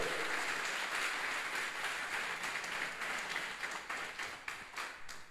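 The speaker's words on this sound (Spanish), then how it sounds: "Denle ese aplauso de alabanza, hermano." Church congregation applauding in praise, a steady wash of many hands clapping that continues throughout, moderately loud and fading slightly toward the end, with no voices over it.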